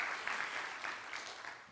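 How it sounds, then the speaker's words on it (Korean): A church congregation at a Reformation Sunday service at Yeondong Church applauds to bless a family, a brief, soft, steady round of clapping heard from a distance. "우리 박수로 더 축복해 주시기 바랍니다."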